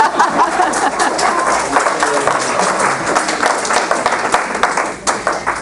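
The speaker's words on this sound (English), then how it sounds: "You can applaud now if you want." A county Ways and Means meeting erupts in lively, uneven applause from a room of people after a council vote passes, the clapping steady and close throughout.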